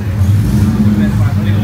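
A naturally aspirated 2020 Mustang fitted with a Cobra Jet intake and cams runs hard on a chassis dyno, giving a loud, steady engine drone with a strong low hum throughout.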